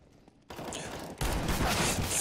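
Gunfire in Counter-Strike: Global Offensive comes in as a sudden burst after a short quiet start. Rapid shots grow louder in two steps into a dense, sustained volley.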